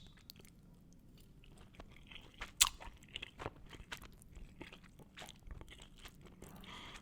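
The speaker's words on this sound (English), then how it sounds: "I'm going to go ahead and take a bite of this." Close, crisp crunching bites and chewing of food topped with Lee Kum Kee Chiu Chow chili oil, with irregular crunches and softer mouth sounds in a quiet room, no talking.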